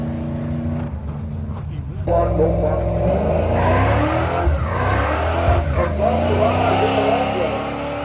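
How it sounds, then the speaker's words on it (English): A drag racing car revs hard and launches at a drag strip event, loud roaring engine with rising pitch and tire squeal, accompanied by further engine noise and a public-address voice in the background. "Jamming that accelerator."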